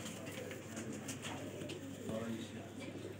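A golden highflyer pigeon coos quietly in a low, wavering call that rises briefly near the middle, faint against steady background noise.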